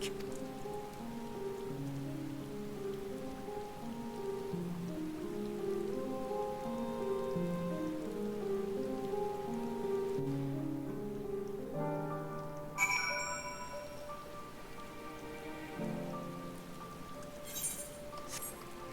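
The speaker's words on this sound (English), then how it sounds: "It's raining." Steady rain in the video game Final Fantasy XIV Endwalker, a continuous soft patter under in-game music, with a few brighter clinks near the end.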